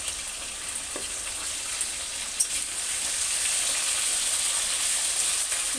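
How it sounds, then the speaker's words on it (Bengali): Round potato slices frying in oil make a faint, steady hiss and crackle that grows slightly fuller partway through, with a couple of soft knocks, close and quiet, no talking. "এখানে ভেজে নেবো চাক চাক করে আলু"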